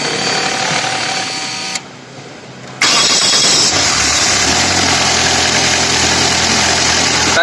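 A car engine with an electronic fuel injection system cranks and starts, then settles into a steady, loud, close idle with a constant hum and no talk.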